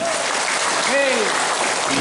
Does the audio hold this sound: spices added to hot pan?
no